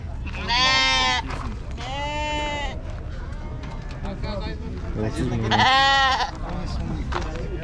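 Lambs and goats bleat loudly in several long, wavering calls at a busy livestock market, with clusters of bleats near the start and again later, set against steady crowd chatter and people talking throughout.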